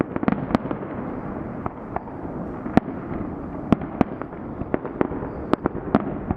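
Fireworks display in Sydney: a continuous crackling rumble of distant bursts, with sharp individual bangs popping out at irregular intervals throughout, no talk.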